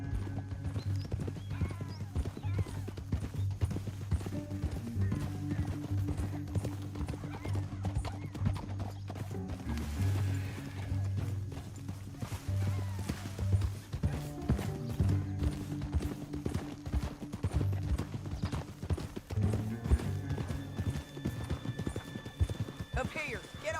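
Horse hooves clip-clop steadily in Red Dead Redemption 2 as riders travel through a canyon, with a horse whinnying and game characters talking over the rhythmic hoofbeats throughout.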